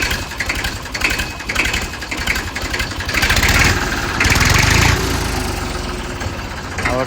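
A tractor engine idles nearby, a loud, rhythmic mechanical chugging that swells briefly in the middle before settling back to a steady throb.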